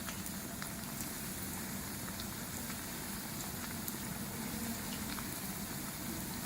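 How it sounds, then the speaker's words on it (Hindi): Square slices of bread fry in hot oil for shahi tukray, giving a soft, even hiss that runs throughout with faint scattered pops. The sizzle is fairly quiet and steady, and no voices are heard. "अब फ्राई करना स्टार्ट करते हैं। ऑयल हमारा गर्म हो चुका है।"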